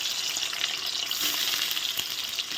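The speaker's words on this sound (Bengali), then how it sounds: "তেল গরম হয়ে গেছে, রান্নাঘরে নিয়ে চলে এলাম, টেবিলে কেটে টেটে আস্তে আস্তে এখন পনিরগুলো দিয়ে দিচ্ছি।" Paneer pieces fry in hot oil, giving a continuous close sizzle with fine crackling and small pops throughout, steady and moderately loud with no talking.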